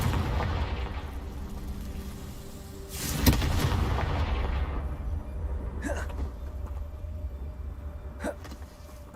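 A Confringo blasting spell in Hogwarts Legacy sets off a loud, booming explosion with a rumbling tail, followed by a couple of short, sharper bursts against steady background game ambience.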